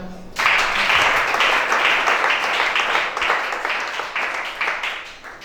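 A church congregation at a worship service breaks into loud, sustained applause that begins abruptly and continues steadily, slowly fading toward the end.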